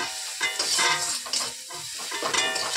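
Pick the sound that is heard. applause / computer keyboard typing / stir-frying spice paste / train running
stir-frying spice paste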